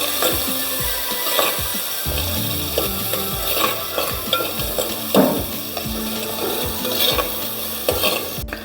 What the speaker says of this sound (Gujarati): હવે 3 થી 4 મિનિટ આપણે ડુંગળી ટામેટાને સાતળવા દઈશું